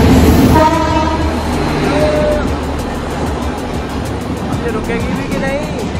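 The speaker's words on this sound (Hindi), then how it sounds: "दोस्तों आ चुकी है, देख लीजिए आप, अभी जस्ट ये एक्सप्रेस ट्रेन है" An express train arriving at a station platform, its rumble and wheel noise steady and loud throughout, with a horn-like tonal blast early on and voices talking over it.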